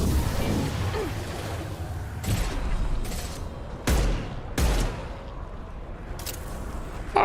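Gunfire sounds in the video game Mass Effect Legendary Edition: several sharp, loud broadband shots ring out at irregular intervals over a steady rumbling game-sound background, with no talking.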